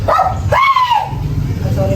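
A dog gives two short, high yelping barks close by, with a rising whine in the second.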